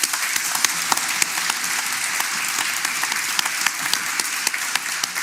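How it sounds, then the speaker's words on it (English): An audience at an evening academic event in Cambridge gives a guest speaker a warm round of applause: a dense, continuous wash of many hands clapping, full and close, with no talking over it. "Please, everyone, give Dr. Pandor a warm round of applause."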